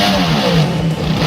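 A Moto Guzzi motorcycle engine screams at high revs, a loud, sharp, rapid-firing howl that holds steady for a brief moment, heard up close and alone.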